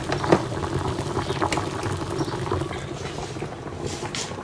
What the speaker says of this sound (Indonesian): Lalu ini kentang sudah mendidih dan ini sudah lunak